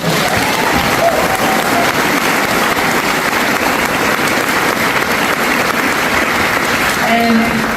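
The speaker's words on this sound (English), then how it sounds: "So we give them a round of applause." Audience at an evening event in Newtown applauds the volunteers, a loud steady wash of many hands clapping that holds for the whole stretch, with faint voices mixed in.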